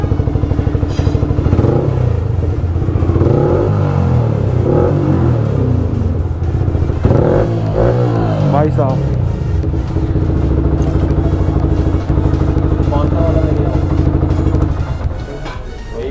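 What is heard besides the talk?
motorcycle engine revving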